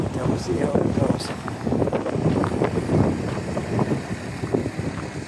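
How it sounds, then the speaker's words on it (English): Gusty wind buffets the microphone with a rough, rumbling roar that rises and falls continuously, loud and close throughout. "It's windy too, it makes it a lot colder."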